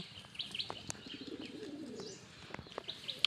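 Pigeons gather to feed at a pigeon farm, giving soft low coos with scattered chirps and brief wing flutters, fairly faint and close by, with no talking.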